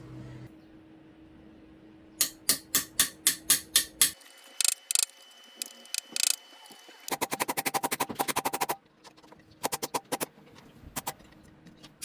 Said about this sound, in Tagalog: Pupukpukin lang palabas.